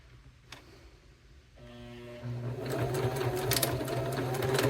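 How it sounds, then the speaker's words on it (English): A sewing machine stitches across the bottom of a cork wallet strap to hold a D-ring in place. It starts quietly, then a steady mechanical whir builds and runs continuously, close and fairly loud. "we're just going to sew across this bottom section here to keep the D-ring in place."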